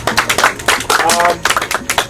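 A small group claps for an individual immunity win at a Survivor finale, the claps coming in short uneven bursts with brief pauses between them, loud and close.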